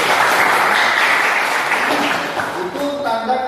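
Classroom students clapping together in a broad, steady burst of applause that starts full and thins toward the end, with some faint voices rising near the close.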